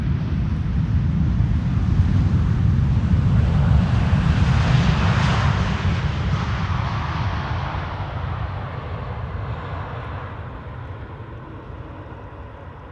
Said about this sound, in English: A321neo arriving from Istanbul.